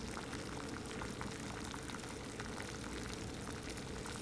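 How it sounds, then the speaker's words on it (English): Water boils vigorously on an alcohol stove during an outdoor stove performance test, a dense, constant bubbling roar heard close and alone throughout. "It's still boiling at 9 minutes 11 seconds."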